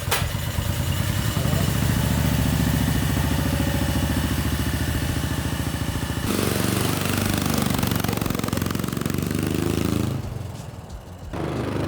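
A 390cc engine swapped into a Little Tikes Crazy Coupe roars close and loud, revving with rough pulsing, then shifts tone and drops off near the end; voices are partly buried under it.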